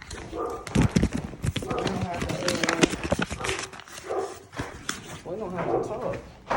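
Dogs barking in short, repeated bursts in an Atlanta apartment, with a few yips and whimpers mixed among the barks and people talking nearby throughout.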